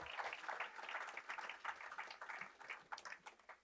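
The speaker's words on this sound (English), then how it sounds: "One more round of applause." Crowd applause at a medal award ceremony, a dense steady patter of many hands clapping at moderate loudness, sustained for a few seconds without talk.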